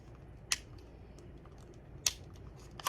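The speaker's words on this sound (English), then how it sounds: "So I'm gonna go ahead and cut." Scissors cutting through the lined hem of a thrifted garment: three sharp, crisp snips spaced apart, with quiet between them.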